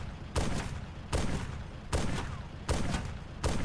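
Gunfire in the video game Arma 2, four or five heavy blasts roughly evenly spaced, each a sharp onset trailing into a rumbling decay, with no voices.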